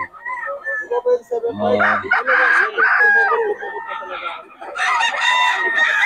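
A yellow-legged Hatch gamecock crows loudly and close by at a rooster market, with other birds clucking and calling around it and some background chatter.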